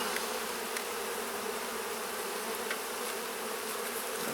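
Honeybees buzzing at an open beehive that was thought queenless, a dense steady hum of many bees close by, continuous and uniform with occasional individual wing passes.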